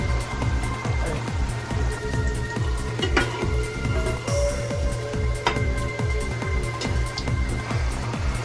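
Food sizzles steadily in hot oil in a home kitchen, a dense continuous crackle with a pulsing low rhythm of stirring and occasional sharp pops, no talking.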